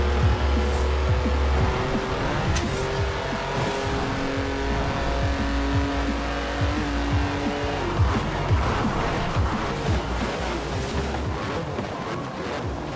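BMW i8 Roadster 2018 racing in Forza Horizon 4 on PC, a steady loud engine drone with shifting revs and brief tire squeals throughout, no talking over it.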